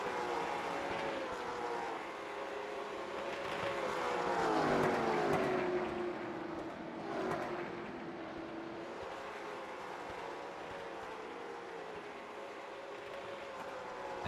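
Late model stock car engines racing at North Wilkesboro in iRacing, a steady droning roar with rising and falling pitch sweeps as cars pass, continuous and fairly loud with no voices.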